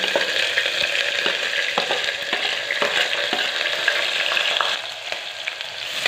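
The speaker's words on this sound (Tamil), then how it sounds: "வெங்காயத்தை வந்து நல்லா வதக்கிக்கலாம்" Three large chopped onions sauté in hot oil for a radish curry, a loud, continuous frying hiss broken by regular clacks of a spatula stirring the pan.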